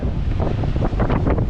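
Strong gusting wind buffets the microphone on an empty sandy beach on Phillip Island, a steady loud roar with rising and falling surges, alone without speech.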